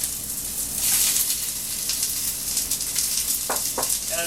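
Ground pork and sliced onions fry in a little oil in a flat-bottomed skillet, a steady dense sizzle throughout with a couple of faint stirring scrapes near the end.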